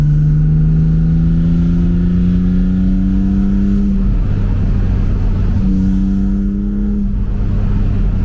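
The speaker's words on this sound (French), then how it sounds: "Et aller chercher un petit peu plus de régime moteur." A tuned BMW Z4 M engine revs up, its pitch climbing steadily below 4000 rpm, dips briefly, then rises again. Loud and close, with no talking.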